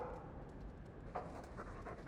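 A dog pants steadily in Dragon Age 2, a quick, breathy rhythm heard close and fairly quiet against a low background hum.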